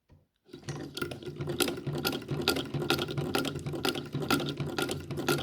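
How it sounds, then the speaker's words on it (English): An antique Gritzner sewing machine worked by its hand crank, starting after a short pause into a quick steady clatter of needle strokes, evenly rhythmic, close and clear, with no talk. "I will sew by turning the cradle handle"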